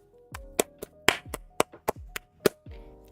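Hands clap about ten times in an uneven rhythm, close and crisp, with no talk over them.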